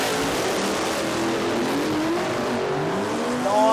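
Radial drag racing cars launch at Willowbank, Australia, with loud engines revving and rising in pitch as they pull away, a continuous throaty roar building toward the end.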